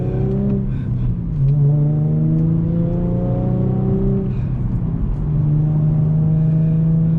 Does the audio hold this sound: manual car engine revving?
yes